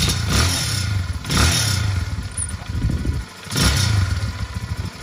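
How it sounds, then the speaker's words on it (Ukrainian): Lifan City R200 motorcycle engine revving in three loud bursts, each rising then easing back toward a rough idle, close by with no talk. "Ліфан City R200"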